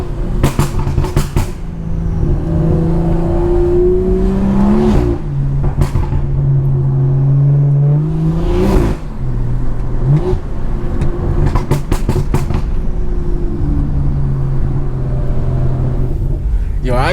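Straight-piped BMW 340i being driven on a mountain road, a loud steady exhaust drone rising and falling in pitch with throttle changes, several sharp crackles and pops, heard from inside the car.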